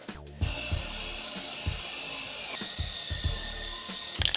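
A drill enlarges the bolt holes for a leaf spring shackle on a 1971 Nova, a steady high whine held for several seconds, with a short break and clunks of metal handling around it.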